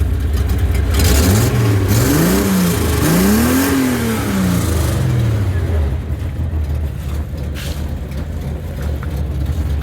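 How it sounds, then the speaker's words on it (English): A 1972 Datsun 240Z fitted with a 260 engine, headers and 2.5-inch exhaust revs up and down in several loud, close sweeps, then settles back to a steady idle. "'72 Datsun 240Z."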